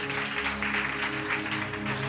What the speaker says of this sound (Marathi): नक्की जरा जोरदार टाळ्या प्रभूच्या गौरवासाठी